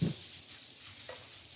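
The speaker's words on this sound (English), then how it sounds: "So allowing that just to saute ever so slightly." Garlic sautés gently in a pan, giving a faint, steady sizzle with a soft stirring scrape at the start.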